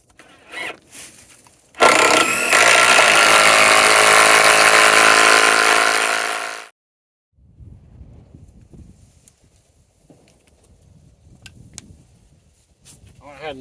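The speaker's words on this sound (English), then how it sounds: "I'm going to try the impact wrench or the impact drill" An impact wrench whirs loudly and continuously for about five seconds, then cuts out abruptly, leaving faint rustling and scattered low knocks.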